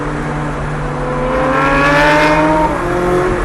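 A Lamborghini or McLaren sports car accelerates on a racetrack, its engine note climbing smoothly in pitch as it builds loud, close and continuous.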